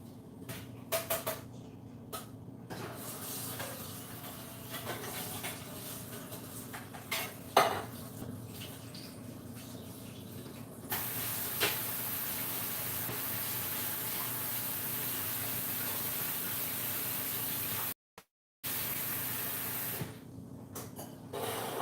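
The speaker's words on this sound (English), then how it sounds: "let's go ahead and drain the beans. We're just give them a rinse" Black beans being drained and rinsed in a colander at home, with clattering metal and dish sounds early on followed by a long steady rush of running water, briefly cut off, then resuming.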